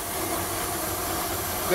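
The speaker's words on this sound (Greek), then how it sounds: "Αν δεν του βάλεις κρύο νερό, βγάζει ατμό, εδώ κατευθείαν, βγαίνει ατμό." Steady broadband hiss of steam escaping from a still with no cold water in its condenser, continuous and fairly loud throughout, with a faint tonal rise near the end.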